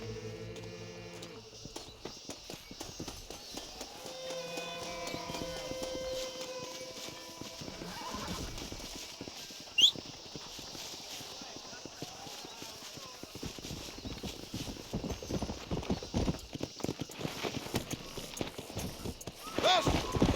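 Horse galloping in the Red Dead Redemption western video game, with a neigh and whinny early on, then a fast pounding hoofbeat rhythm that builds toward the end under faint music and a shouted voice.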